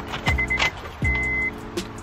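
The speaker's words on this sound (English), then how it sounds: "Windows should be working. Yep, windows work." A car's electric window motor runs in two short whirring bursts, each opening with a clunk, close by against a faint background hum.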